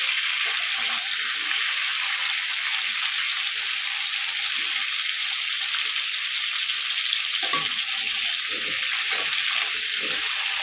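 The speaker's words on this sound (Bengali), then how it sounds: "এইভাবে আমি কপিগুলোকে হালকা করে একটু ভেজে নেব।" Cauliflower florets sizzle steadily in hot oil in a pan, a constant crackling hiss throughout with a few faint clinks near the end, no voices.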